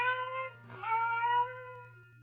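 A cat cries faintly in a radio drama, a single drawn-out, wavering meow rising and falling over a steady low hum.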